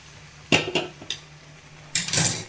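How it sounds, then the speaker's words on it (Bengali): A metal spoon stirs thick milk into grated carrot halwa in a pan, giving a few sharp clinks and scrapes against the metal, then a busier burst of clatter near the end. "এবার দেখুন দুধটা দিয়ে কনস্ট্যান্ট নাড়তে হবে।"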